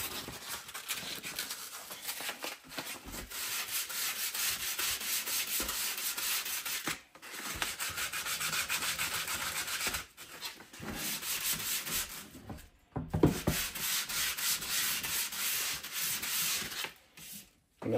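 Juniper wood bow rubbed with 220-grit sandpaper, a steady close scratchy hiss in long strokes with a few short pauses, no talking.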